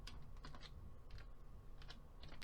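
A computer keyboard is typed on with soft, quick keystrokes, a few scattered clicks in short bursts, including an Enter press, over a low steady background hum.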